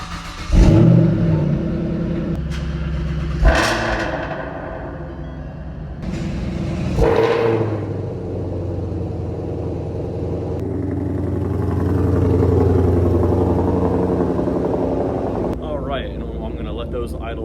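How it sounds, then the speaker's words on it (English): A 2014 Ford Shelby GT500 engine starts with a loud roar and blips, then settles into a deep, steady idle, with a person talking nearby. "Start with the 2014 GT500."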